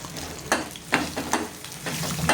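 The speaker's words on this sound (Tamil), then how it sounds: "நல்லா வதக்கணும்" Garlic cloves and tamarind sauté in a hot pan with a steady sizzle, while a spoon stirs in several distinct scraping strokes about every half second, close and fairly loud.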